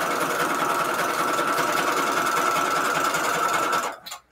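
Sewing machine stitching through a paper envelope made from book pages, a loud continuous motor buzz running close and steady for about four seconds before cutting off abruptly.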